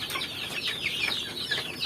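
Free-range village chickens cluck in a farm coop, a cluster of quick, high, overlapping clucks and squawks at moderate distance, with soft background noise throughout.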